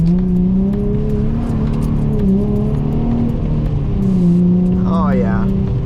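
A Nissan 350Z drives in heavy rain, its engine humming and revving steadily under a constant hiss of rain and road spray, heard from inside the car.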